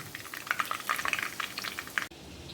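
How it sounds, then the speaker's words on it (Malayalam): Chicken pieces deep-fry in hot oil for restaurant-style chilli chicken, giving a dense, steady crackling sizzle up close that cuts off abruptly just before the end. "ഇനി ബാക്കിയുള്ളതും ഇതുപോലെ തന്നെ നമുക്ക് വറുത്തെടുക്കാം"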